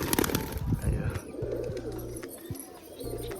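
Pigeons shut in a loft, including a crested bird and a young Rajshahi pigeon, cooing low and rhythmically nearby, with brief rustling and handling noise at the start.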